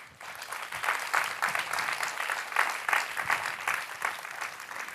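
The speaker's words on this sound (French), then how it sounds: "tonnerre d'applaudissements pour eux, s'il vous plaît" An audience claps steadily at a French live event for successful real-estate investors, a dense, fairly close wash of hand claps sustained throughout with no voices over it.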